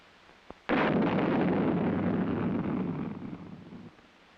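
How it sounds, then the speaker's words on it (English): An Honest John artillery rocket fired electrically off its launcher rail: a small snap, then a sudden loud roaring blast that holds steady for about three seconds and tapers into a rumbling fade. "It is fired electrically with thermal batteries or vehicular power source from a remote control firing panel."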